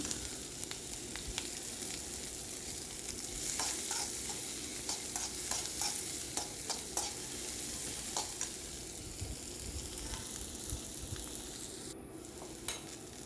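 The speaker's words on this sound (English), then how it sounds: "stir it well and add those garlics." Ivy gourd stir-fried with whole garlic in a pan: a low steady sizzle under repeated scraping and clacking of a spatula, moderately close, with no talking.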